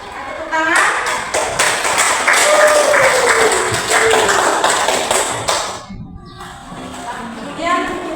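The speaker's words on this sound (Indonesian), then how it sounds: "Tepuk tangan." A group claps rhythmically in a classroom during a religious education lesson, producing fast, even claps for several seconds with voices mixed in, then quieting.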